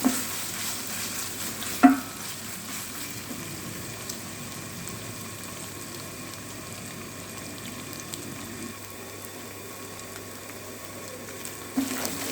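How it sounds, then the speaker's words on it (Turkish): Minced meat for moussaka fries and is stirred in a pan, making a continuous soft sizzle with a couple of sharp utensil clinks against the pan at the start and end, and no talk. "Şimdi iyice kavrulduk malzememiz, kıymamız."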